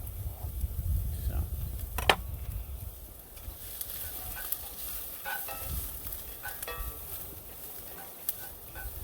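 Garlic and onions sizzle in a pan over an open campfire, a steady low frying hiss with occasional sharp clicks and scrapes of a utensil, the cook's voice faintly present at times.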